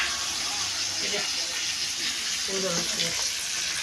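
Food sizzles and fries in a covered pan over a lowered gas flame, pointal vegetable frying in a village-style kitchen, a steady soft hiss running throughout while someone talks quietly over it.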